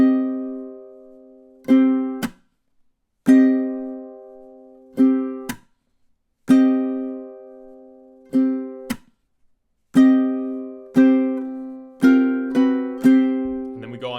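Section C of a theme on ukulele: bright plucked notes in short rhythmic bursts with pauses between them, close and fairly loud, ending with a brief handling noise.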